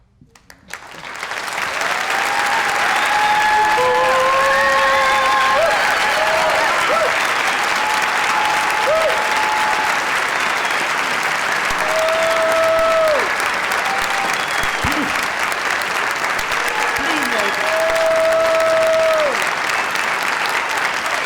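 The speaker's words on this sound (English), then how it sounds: "Don't applaud me, I don't deserve it." A large theater audience at a New York City mainstage event breaks into sustained, loud applause that builds quickly and holds steady for about twenty seconds, with faint voices and whoops mixed into the clapping.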